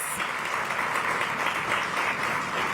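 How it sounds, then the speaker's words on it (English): Sustained round of applause from an audience at a disability expo, a dense steady clapping wash filling the whole stretch at even loudness with no talk over it. "Give Matthew a big round of applause."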